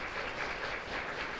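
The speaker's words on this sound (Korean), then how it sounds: "우리 첫 번째 팀 서창고등학교 올림포스 팀 박수로 맞아주시기 바랍니다." An audience claps steadily in a hall, welcoming a high school team onto the stage at a mock civil trial competition. The dense applause runs throughout with no talking.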